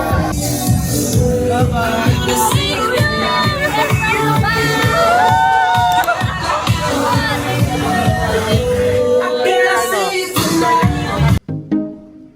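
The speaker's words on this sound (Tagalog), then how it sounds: "sigawan!" A family crowd shouts loudly together at a New Year celebration in the Philippines, a dense, sustained wall of voices lasting about eleven seconds before cutting off abruptly.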